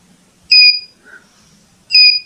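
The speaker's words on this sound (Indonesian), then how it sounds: "apabila mencapai level alarm 1, aktuator akan berbunyi" An IoT system's electronic buzzer actuator, triggered at alarm level 1, sounds two loud, high-pitched beeps about one and a half seconds apart, with a faint softer tone between them.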